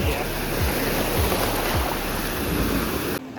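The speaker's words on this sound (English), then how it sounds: "So obviously it's the start of August and it's the beach, and Kieran has just tested the water" Ocean waves wash at a beach in early August, a continuous surf rush under heavy wind buffeting the microphone, with faint low thuds.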